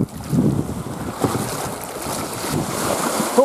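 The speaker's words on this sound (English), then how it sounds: "I would say it's a moderate to high wind" Moderate to high wind blowing at sea off Llanddwyn Island beside a sea kayak, with steady buffeting microphone rumble and washing water swells rising and falling throughout.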